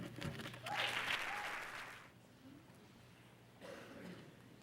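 An audience at a junior pageant preliminary night claps in a burst of applause that swells, then fades to a softer patter before a brief second wave.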